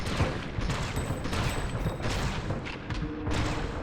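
Dense gunfire rattles through a firefight with enemies in the video game Fear Effect 2, a loud, steady barrage of overlapping shots and thuds with no pauses, plus a faint high electronic tone now and then.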